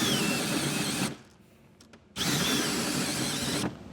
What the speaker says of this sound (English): I'll take a 4-inch hole saw and start cutting our hole right in the center of that